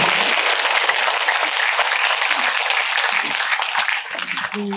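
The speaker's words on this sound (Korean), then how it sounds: "여기도 박수 쳐야 되는데" Audience applause fills a Buddhist dharma assembly hall at Beomeosa temple, a dense, steady clapping from a large crowd that carries on for several seconds before thinning out near the end.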